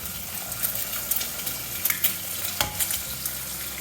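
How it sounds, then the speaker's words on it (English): Four eggs cracked straight into a hot pot on high heat for pad Thai sizzle and crackle steadily, with scattered scraping stir strokes and a sharper clack near the end. "Cracking the eggs right in the pot to scramble."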